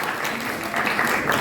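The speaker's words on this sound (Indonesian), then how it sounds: "Jadi silakan kalau mau tepuk tangan" Brief burst of dense applause from a school audience after a class drama performance, a continuous rush of clapping filling the room.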